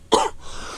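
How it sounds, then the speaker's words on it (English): One sharp, close cough, a single harsh burst that trails off into a breathy fade. "I'm about to cough because I have quite a bad cough at the moment."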